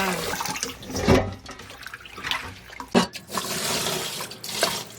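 Bellflower roots being rinsed under running water until it runs clear, with irregular bursts of splashing and pouring water near the sink, alone without voices.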